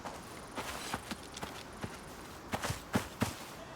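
Hooves of a young animal, maybe a foal or deer, clomp across ground in the survival game Icarus, a faint, irregular run of soft thuds that bunch closer together toward the end.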